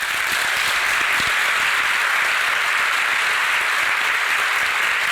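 A large audience at a Perth writers festival talk applauds loudly and continuously to welcome a speaker, a dense, even wash of clapping throughout.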